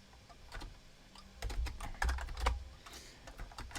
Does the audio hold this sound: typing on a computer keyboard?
yes